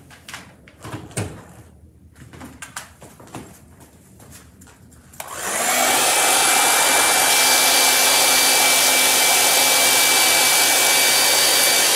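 A hair dryer blows steadily on an image transfer being dried as part of a craft technique, its loud continuous broadband whoosh starting abruptly midway after a few soft handling knocks and running alone to the end.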